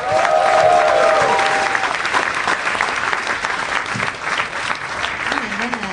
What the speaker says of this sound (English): Big round of applause for Sarah Tolamash, everybody.